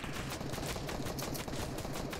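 Continuous rapid gunfire from a Fortnite battle, dense overlapping shots and bursts crackling nonstop at a steady loud level with no talk.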